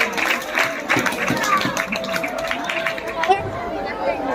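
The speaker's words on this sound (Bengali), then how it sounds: "সবার হাততালি দিয়ে ম্যামকে অভিনন্দন জানাও।" School audience at a Teacher's Day program clapping to welcome a teacher: steady, dense applause from a crowd with chatter and voices mixed in throughout.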